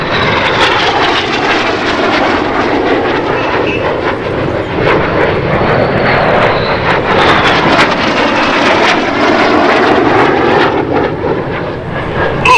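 Red Arrows BAE Hawk jets in a flying display at an air show, a loud, continuous roar of jet engines with wind buffeting that swells and shifts as the aircraft pull up overhead, lasting throughout.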